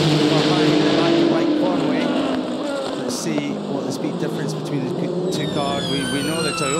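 Le Mans 24 Hours 2023 endurance race cars, including Toyota prototypes, scream past at speed. Engine notes rise and fall in pitch over a steady roar, with a commentator talking throughout.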